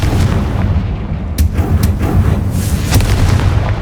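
A Confringo spell blast in the video game Hogwarts Legacy on PS5, loud booming impacts over a dense rumbling game soundscape, with several sharp bursts in quick succession.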